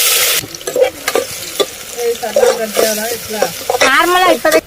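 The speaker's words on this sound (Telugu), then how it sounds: "నూనె వేడయ్యాక ఒక పెద్ద సైజ్ ఆనియన్ కట్ చేసుకొని వేసుకోవాలి." Chopped onion frying and sizzling in hot oil in a pressure cooker, with loud stirring scrapes and sizzle throughout, close up, while voices talk intermittently over the cooking.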